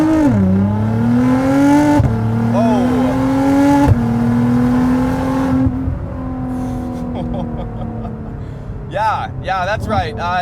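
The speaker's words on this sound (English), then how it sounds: "Turbo spool up pretty much instantly" A 650+ HP Nissan GTR accelerates hard from inside the cabin, its engine note climbing through repeated gear shifts with turbo spool rising quickly, loud and close, with people talking over it near the end.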